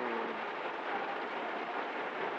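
Heavy rain in Malang City, Indonesia, hisses in a steady, dense wash with no pauses.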